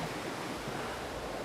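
Storm-driven waves on a lake wash and roar continuously in a dense, steady rush of water, with some wind noise.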